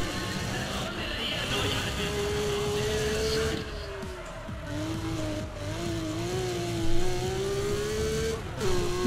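Racing car engines in Need for Speed ProStreet, including a Porsche, drone and rise in steady pitch sweeps, with a brief louder revving surge near the end and game sounds mixed in.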